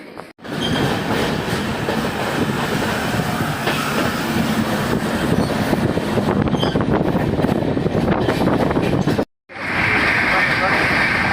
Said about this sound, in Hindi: हमारी ट्रेन चल रही है और खड़गपुर से निकल चुकी है ट्रेन